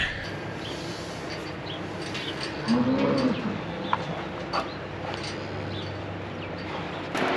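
Cow and bull penned together in a dairy farm corral: one drawn-out moo rises midway, moderately close, over steady outdoor background noise with a few faint clicks.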